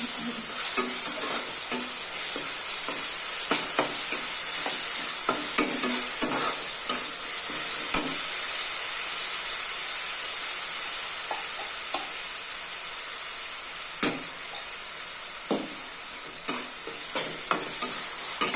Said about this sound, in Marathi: मसाला लसूण खोबरं जिरं पुदिना कोथिंबीर आणि आलं एकजीव करून घेऊया